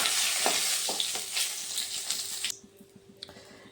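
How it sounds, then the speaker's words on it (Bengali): Dried chili, panch phoron five-spice and two bay leaves frying in hot oil as a tempering for soybean kofta curry, with a loud, steady sizzle and some stirring that drops to a quieter crackle partway through. "ফোড়নে আমি 5 ফোড়ন দিচ্ছি আর 2টো তেজপাতা দিচ্ছি।"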